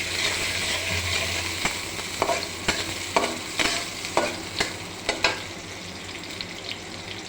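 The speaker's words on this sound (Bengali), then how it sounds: "ইলাইচ দারচিনি আর লঙ্গ দিয়ে দিলাম এখন এই যে পেঁয়াজের সাথে ভাজা ভাজা হয়ে যায়" Cardamom, cinnamon and cloves fry with onions in a pan, giving a steady oily sizzle. A spoon scrapes and stirs in repeated sharp strokes over the sizzle, close and clear, with no talk.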